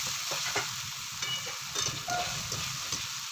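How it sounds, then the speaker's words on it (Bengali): Chopped tomato and masala for mutton keema ghugni sizzle and fry steadily in a pan while being stirred, with soft scraping touches over a constant close hiss. "খুব ভালো করে আগে এই মশলাটাকে এবার কষিয়ে নিতে হবে।"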